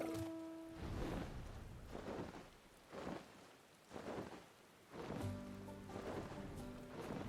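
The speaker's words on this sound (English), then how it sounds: "Oh, it's raining!" Steady rain falls in a video game world, a continuous hiss with soft swelling surges and low rumbles. A musical tone plays underneath, and there is no talk.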